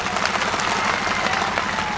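Rally crowd applauding at a political gathering in Allahabad, a dense continuous wash of clapping held steady and loud throughout, with no voices on top.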